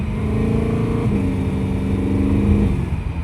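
A BMW E92 M3 with DCT gearbox revs hard, with rising engine harmonics broken by a quick upshift near the middle and another near the end, loud and close with no talk.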